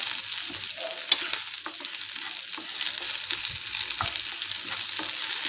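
Onions and curry leaves sauté in a hot pan for a fish curry, giving a steady close sizzle with scattered crackles and occasional stirring scrapes, no voices.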